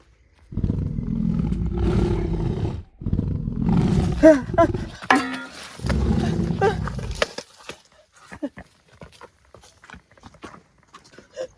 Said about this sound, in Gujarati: ખબર નક્કી વાઘનો અવાજ આવે છે